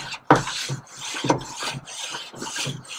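Wire brush scrubbing a hot steak grill grate, harsh raspy strokes repeated in a quick back-and-forth rhythm, close and fairly loud with a sharp scrape at the start.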